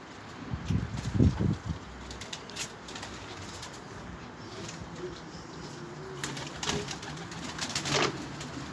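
Colorful Baska pigeons in an outdoor coop under light drizzle give soft, low cooing calls, with a faint flutter of wings against a steady hiss of background noise.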